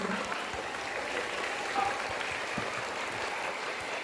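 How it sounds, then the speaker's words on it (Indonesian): Applause from an audience of schoolchildren and worshippers at an Islamic Ramadan talk held in an elementary school, a steady, fairly quiet wash of clapping that carries on evenly throughout. "Tepuk tangan dong buat kita semua."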